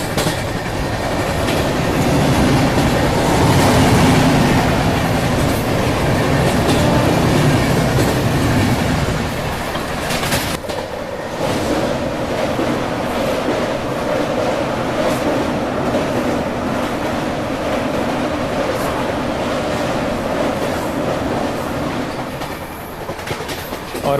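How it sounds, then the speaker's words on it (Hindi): The Malwa Superfast Express of Indian Railways passes at a crossing, a loud, close rush of wagons with rhythmic clickety-clack wheels that eases slightly after a sudden shift midway and rolls on steadily. "क्या खूबसूरत यहाँ पे क्रॉसिंग हो रही है अपनी, मेरे ख्याल से मालवा सुपरफास्ट एक्सप्रेस आ रही है वो।"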